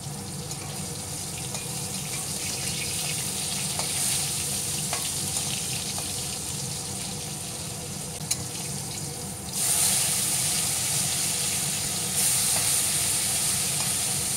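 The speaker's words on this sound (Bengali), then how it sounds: "এদিকে মাছ ভেজে উঠিয়ে নিলাম" Fish frying in hot oil gives a steady, dense sizzle that carries on unbroken, with a brighter, louder hiss rising partway through. No one speaks over it.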